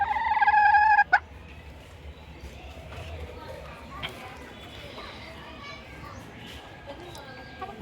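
A crested desi hen in a backyard clucks, with a loud burst of calls at the start and then softer, scattered clucks and background noise, with some voices at times.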